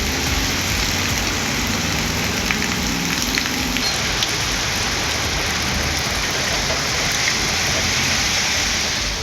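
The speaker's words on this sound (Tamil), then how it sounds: "சிவகங்கை மாவட்டம் திருப்பத்தூர், திருக்கோஷ்டியூர் உள்ளிட்ட பகுதிகளில் 30 நிமிடங்களுக்கு மேலாக கனமழை வெளுத்து வாங்கியது." Heavy rain pours down in Tiruppattur and Thirukoshtiyur in Sivaganga district, Tamil Nadu, a loud, unbroken hiss of water on surfaces lasting throughout without any voices.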